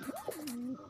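A single biscuit pigeon gives a short, close coo that rises and then glides down, heard alone and fairly soft.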